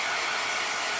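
A hair dryer blows a continuous, loud, airy hiss up close while drying a layer of paint on a floral painting.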